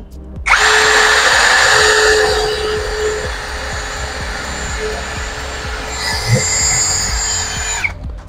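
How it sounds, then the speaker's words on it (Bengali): A battery-powered electric drill bores into a piece of wood, a loud, close, continuous whine lasting several seconds that shifts pitch midway and then cuts off. "আপনারা দেখলেন আমি কত সুন্দরভাবে এই কাঠটিতে ড্রিল করলাম"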